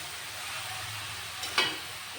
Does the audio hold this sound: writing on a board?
no